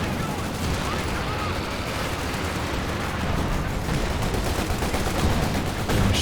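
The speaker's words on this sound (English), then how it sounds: "The machine gun working hard." Machine gun fire in the World War II strategy game Company of Heroes 2, a dense, continuous roar of rapid shots mixed with other battle gunfire, loud and unbroken throughout.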